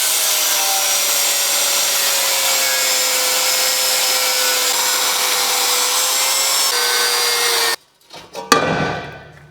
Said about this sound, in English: those are supposed to be bolts. I'm cutting them off.